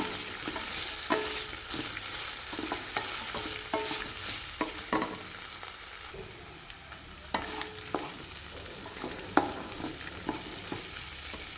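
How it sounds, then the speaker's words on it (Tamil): Ivy gourd sautéing with salt in a pan for chutney makes a soft, steady sizzle punctuated by frequent spatula scrapes and taps as the pieces are stirred. "உப்பு சேர்த்து ஓரளவு காய் வதங்கிச்சுங்க"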